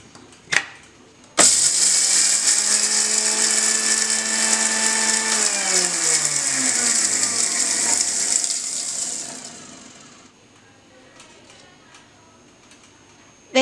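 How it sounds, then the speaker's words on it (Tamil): Kitchen mixer grinder grinding black cumin seeds and fenugreek in its jar, starting abruptly after a brief click, running loud and steady with a rattling whine, then winding down and stopping, leaving quiet background. "இப்போ இந்த ரெண்டையும் அரைச்சிக்கணும். கருஞ்சீரகத்தை மிக்ஸி ஜாரில் போடுறேன்"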